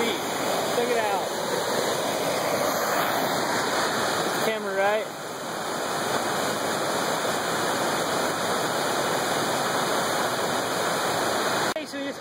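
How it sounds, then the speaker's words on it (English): A waterfall on a river in Yellowstone National Park roars as a steady, loud broadband rush that runs the whole time, with people talking over it and a short chirping sound around the middle. "Another waterfall."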